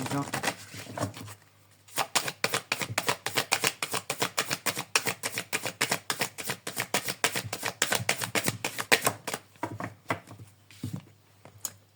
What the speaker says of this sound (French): Donc on va tirer une carte, voir quel est le thème qu'on nous propose.